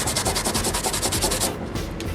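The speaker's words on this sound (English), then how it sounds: "you can take the Scotch-Brite to it and make it shiny like that." A Scotch-Brite pad scrubbed back and forth on a copper pipe bracelet, giving rapid rhythmic rubbing strokes close to the microphone that stop abruptly near the end.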